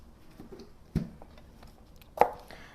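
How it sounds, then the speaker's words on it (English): A knife cuts the ends off green onions on a cutting board, two distinct close chops about a second apart, with fainter taps and handling in between. "I'm just going to cut off the ends"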